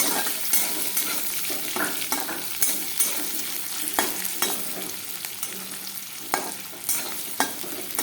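Meat frying in a pan with spices, turmeric and salt, along with onion, bay leaf and potato. A steady, close sizzle runs throughout, with the spoon scraping and knocking against the pan at irregular moments.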